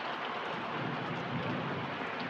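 Steady, dense rain pours down in an even hiss with no pauses, fairly soft and continuous.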